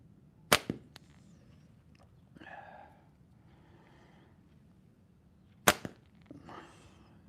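Slingshot shots at long-distance practice outdoors, with two sharp snapping releases several seconds apart, each followed by a faint distant impact or whoosh against quiet background.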